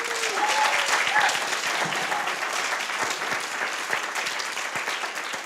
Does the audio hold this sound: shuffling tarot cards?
no